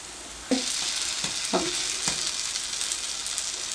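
An eggless vegetarian omelette sizzles in a pan, a loud steady hiss with a few soft thuds as it is flipped and pressed, no talk.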